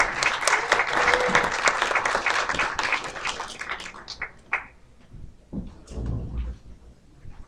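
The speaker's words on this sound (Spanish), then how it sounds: "Les damos un fuerte aplauso." Audience applause at a Catholic church event in Mexico welcoming priests, dense clapping for about four seconds that thins into scattered claps, thumps and murmurs before fading.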